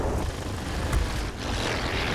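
A Focke-Wulf fighter plane in a video game drones with a steady, loud propeller-engine roar across the whole stretch, with no voices over it.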